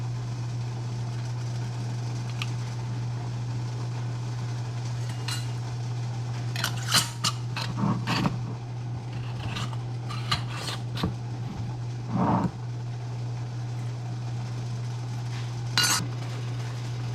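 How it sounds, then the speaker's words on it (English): Hot syrup ladled into glass jars packed with cucumbers for canning peppers and eggs, heard as scattered clinks of a ladle against glass and pot over a steady low hum, with no talk. "my syrup is hot again, so I'm about to ladle those into these jars"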